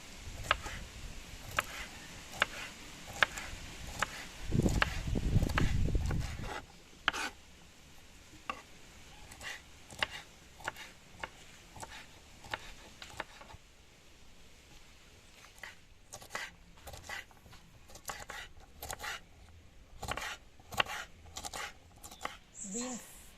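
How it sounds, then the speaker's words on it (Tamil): Tender fresh green beans are cut with a knife for poriyal, producing a run of crisp, fairly regular chopping taps, close and quiet, with a brief louder rushing burst early on. "கட் பண்ண போகிறேன் பீன்ஸ் பொரியல் தான் இது"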